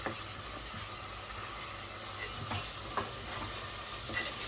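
Ginger garlic paste fries in a pan for a chicken curry, giving a constant close sizzle with occasional light stirring scrapes.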